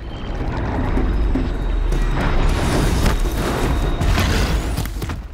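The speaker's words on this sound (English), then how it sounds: "Just try to lob a sticky bomb over there." A sticky bomb goes off in Horizon Zero Dawn, a loud, sustained rumbling burst with crackling debris that rolls on for several seconds, dense and close, with no clear gaps.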